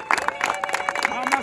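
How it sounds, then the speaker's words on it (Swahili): Audience clapping and crowd noise for Dr. Samia Suluhu Hassan at a water project launch in Morogoro, a brief burst of applause mixed with overlapping voices and babble. "Naomba mumpige makofi Daktari Samia Suluhu Hassan."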